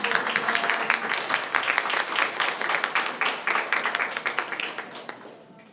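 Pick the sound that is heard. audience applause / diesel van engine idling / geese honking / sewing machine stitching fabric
audience applause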